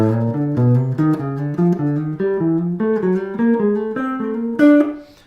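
Piano playing a run of thirds, each note approached by a half step from below, in a chromatic exercise: a steady stepping sequence of paired tones rising gradually, close and unaccompanied.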